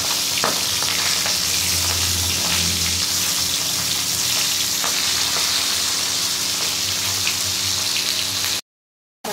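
Fish fries in oil in a wok, giving a loud, continuous close sizzle and bubbling that runs unbroken for most of the stretch before it cuts out briefly at the end.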